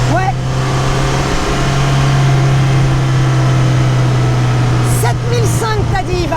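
A road-legal race car with a Ford engine idling and revving close by, a steady low engine drone with a rising note near the end, while people talk over it.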